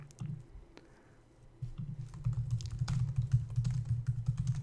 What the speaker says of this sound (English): Typing in my business name.